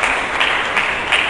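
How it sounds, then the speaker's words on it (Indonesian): A church congregation breaks into sustained, loud applause, with many hands clapping together in a dense, continuous wash. "Berikan tepuk tangan yang meriah bagi Yesus Kristus"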